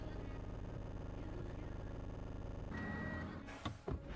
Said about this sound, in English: Truck noise is kind of weird.